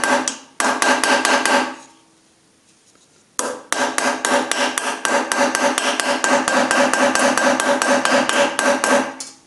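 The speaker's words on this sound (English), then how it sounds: "chiseling metal away." A hammer drives a chisel to cut metal away around damaged screws on a steam press, with rapid, evenly spaced ringing taps close by, a short pause near the start, then continuous tapping.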